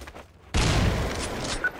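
Gunfire in Counter-Strike: Source bursts in after a brief quiet moment, a loud, dense volley of shots that continues without pause to the end.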